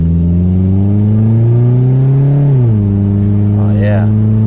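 A 2004 Toyota Camry with a swapped transmission pulls away from a complete stop, its engine drone rising steadily in pitch, then dropping as it shifts and settling into a strong hum, recorded close from inside the car.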